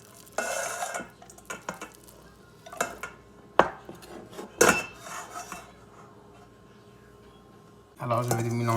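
Beef salad tossed in a bowl, with soft stirring and clinks of utensil against the bowl coming in scattered bursts, louder clattering near the end, and talk alongside.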